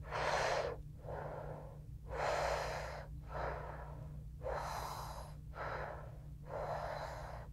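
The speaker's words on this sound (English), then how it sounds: "Another way of doing this is keeping the tongue like the straw, and keep breathing that way." Slow, repeated breaths drawn in through the mouth past a tongue curled into a straw shape, hissing cool-breathing inhales alternating with softer exhales, close and alone over a low steady hum.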